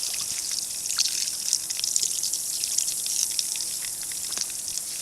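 Water trickles and splashes steadily while freshly picked poke greens are rinsed, a soft continuous hiss of running water with small drips and handling sounds, heard up close and without speech.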